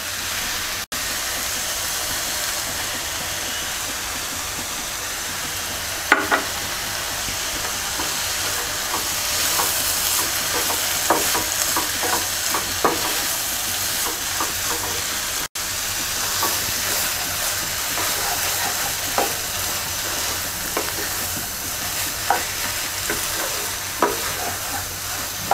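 Egg frying with chopped ash gourd (chal kumra) in a pan makes a steady, loud sizzling hiss throughout, with a few brief knocks and scrapes.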